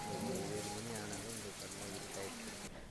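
Rain falls at night at a rural village house, making a steady, soft hissing patter that runs throughout while a person talks over it.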